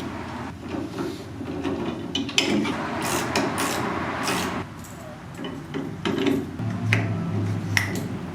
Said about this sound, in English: tightening the caster onto the end of the tow bar with a 1/2-inch